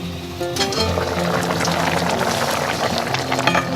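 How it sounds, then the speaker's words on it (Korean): Korean steamed beef ribs (galbi-jjim) boiling in a covered pot on a stove, a steady close bubbling and simmering sound with soft lid rattles, continuous throughout without talk. "끓고 있는데요. 지금 막 연기도 나고 냄새도 맛있게 퍼지고 있습니다."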